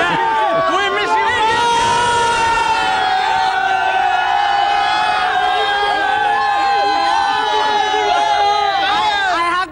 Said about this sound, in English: One final cheer for India.